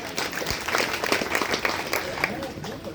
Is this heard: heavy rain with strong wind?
no